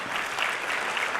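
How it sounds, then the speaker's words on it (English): A loud round of applause at the LFT gala dinner in 2016: thick, continuous clapping from a dinner crowd, sustained evenly through a short burst. "can we have one loud round of applause for Mr."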